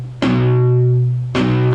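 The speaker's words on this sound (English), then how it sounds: "what you can do is pluck the power chord" Electric guitar power chord plucked with palm muting, two separate strikes with sharp attacks that ring briefly and decay, close and loud with no talking.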